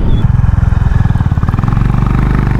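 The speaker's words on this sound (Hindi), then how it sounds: "तो बाइक भी बहुत ही प्यारी भाग रही है," A Honda Highness motorcycle engine thumps close and loud while riding, its steady rapid single-cylinder pulsing beat rising slightly in pace, with no talk over it.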